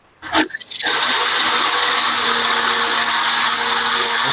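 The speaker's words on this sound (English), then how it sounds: "Need the blender for a few seconds." A blender starts with a short burst and then runs steadily at high speed for several seconds, a loud, continuous whirring motor close by with no speech over it.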